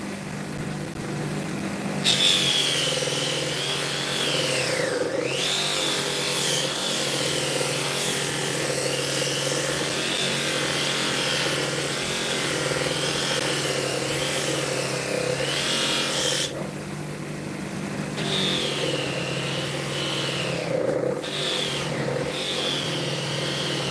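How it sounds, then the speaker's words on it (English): A power tool polishing curved 304 stainless steel, giving a continuous loud grinding whine with shifting pitch as pressure changes, interrupted by two brief dips. "when I'm polishing this, I'm keeping the curve in shape by putting a wee bit of pressure this way."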